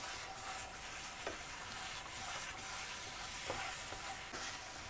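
Guava cheese mixture cooking in a pan and being stirred, a soft continuous sizzle with periodic scraping strokes of a spoon against the pan, close but quiet, with no talking.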